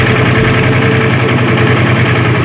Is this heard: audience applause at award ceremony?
no